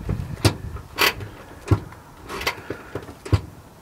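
Handbrake on an Audi A3 pulled up and released a few times, giving sharp ratcheting clicks and clunks at irregular intervals, close by inside the car, with no talking.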